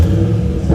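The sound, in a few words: 2015 Chevrolet Camaro 2SS engine revving with exhaust rumble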